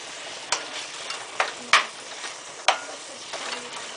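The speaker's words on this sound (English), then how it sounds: "So you just break up the meat with your spoon." A spoon scrapes and taps through organic ground beef in a frying pan, giving a few sharp clinks and scraping strokes over a faint steady sizzle, close and fairly quiet.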